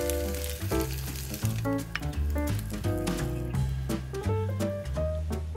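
Chili frying in oil for Penang Hokkien prawn noodles gives a steady sizzle that runs under prominent background music throughout, with no voices.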